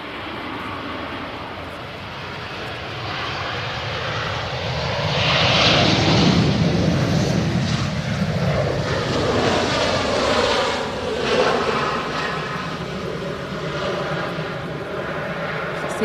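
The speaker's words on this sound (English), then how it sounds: "That's the Finnair from Helsinki." A Finnair airliner from Helsinki lands at Manchester Airport with a broad jet-engine roar that swells to a peak midway, then fades into a lingering rumble with outdoor wind.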